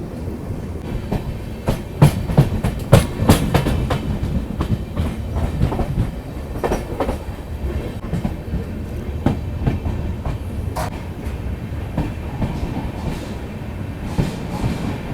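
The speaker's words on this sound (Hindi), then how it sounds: "ये बाईपास लाइन एक बनाई हुई है जिससे कि बिना पोखरण स्टेशन जाए हुए हम लोग" The Swarn Nagri Express rolls along the Pokhran bypass line in the Thar Desert, its wheels clattering in steady clickety-clack bursts over a low continuous rumble, with no voices.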